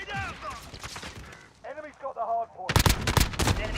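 Rapid gunfire from a Modern Warfare video game erupts in the final second as a loud, dense burst, following excited talking over game sounds.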